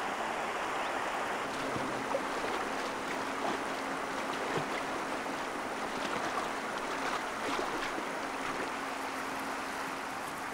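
Shallow stream on the Nalati grassland in Xinjiang, China, as a Kazakh herder drives sheep across at dusk: continuous rushing, burbling water with scattered splashes, steady and fairly close throughout.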